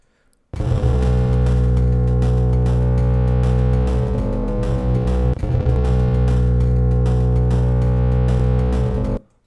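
A thick, slowed-down bass tone sustains continuously without chopping, murky and droning, with a brief shift midway before it cuts off.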